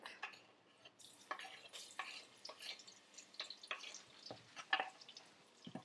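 Garlic is stir-fried in a pan for a beef dish, giving a faint, soft sizzle broken by light scraping and clicking spatula strokes in an irregular rhythm.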